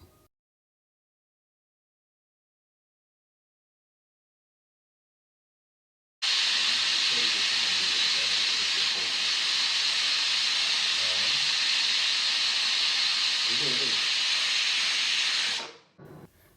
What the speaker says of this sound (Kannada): ಕುದಿ ಬಂದ ನಂತರ ಕುಕ್ಕರಿನ ಮುಚ್ಚಳ ಮುಚ್ಚಿ ಮೂರು ವಿಷಲ್ ಕೂಗು ಬರುವವರೆಗೂ ಮೀಡಿಯಂ ಫ್ಲೇಮಿನಲ್ಲೇ ಬೇಯಿಸಿಕೊಳ್ಳಬೇಕು